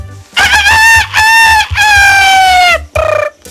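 A voice imitates a rooster crowing, loud and close, in a Pashto comedy scene: several drawn-out harmonic crows in a row, the last one shorter, with no other sound.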